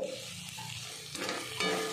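Tomato sauce and chili sauce sauté in a hot pan while being stirred, giving a close, steady sizzle with scraping stir strokes near the middle and end.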